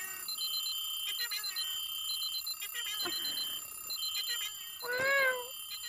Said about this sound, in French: Un ami à moi, qui se reconnaîtra, affirme que le réveil de Soniko est atroce à l'écoute.